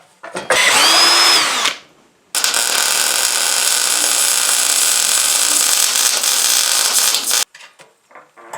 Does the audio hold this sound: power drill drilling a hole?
yes